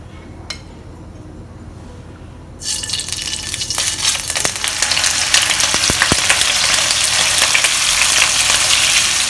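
Pieces of firm tofu frying in a pan, starting with a quiet lead-in before a sudden loud sizzle as they go into the oil, then a steady crackling fry that grows slightly louder, close up with no voices.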